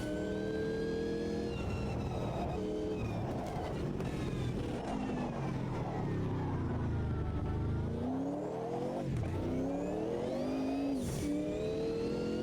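Race car engine in Automobilista 2 revving through rising and falling pitch sweeps as it accelerates and shifts, steady and prominent throughout with a brief dip near the end.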